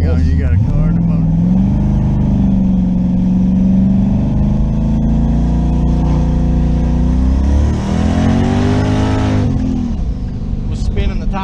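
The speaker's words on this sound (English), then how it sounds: "It was spinning the tires, man. That was like a quarter throttle and it was spinning the tires." A twin-turbo LS-swapped third-generation Camaro engine drones loudly and steadily under throttle, pitch rising and falling as the tires spin, with a brief surge near the end; the car is close and continuous throughout.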